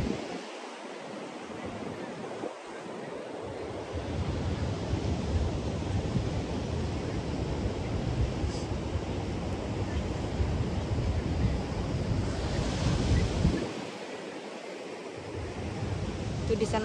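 Ocean surf on Legian Beach in Bali rumbles as a steady, broad wash of waves mixed with wind buffeting the microphone, continuous and fairly loud throughout.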